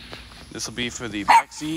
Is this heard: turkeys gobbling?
no